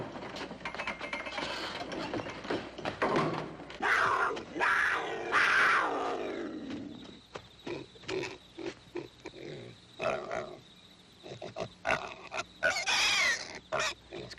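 A pig's squeals and grunts come in loud, broken bursts from an open pen, mixed with rattling mechanical clatter, then fade to shorter intermittent cries.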